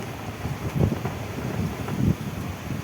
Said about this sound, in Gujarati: આટલો પવન ચાલુ વરસાદ